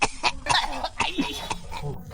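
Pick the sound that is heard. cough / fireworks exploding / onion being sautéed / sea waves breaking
cough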